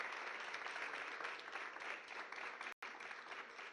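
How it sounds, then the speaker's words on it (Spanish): Brief, steady applause from an audience, clapping for the nuns as a soft, even wash of hands with one very short dropout near the end. "un aplauso para las monjas que lo estarán viendo"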